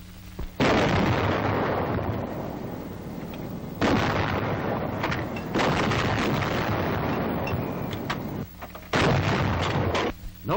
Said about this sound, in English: When the target comes within range, the order to commence firing is given.